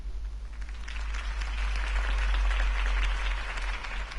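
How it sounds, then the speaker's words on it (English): A crowd applauds a political speech in a Batman video game, at moderate distance, a steady patter of clapping over a low electrical hum, fairly quiet overall. "could have heard that applause"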